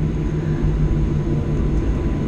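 An airplane takes off at a busy airport with a loud, steady, low engine roar heard fairly close and without a break.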